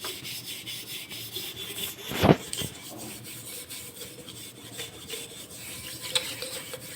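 Copper and silver vessels are scrubbed with tamarind, a steady close rubbing and rasping with one louder scrape partway through.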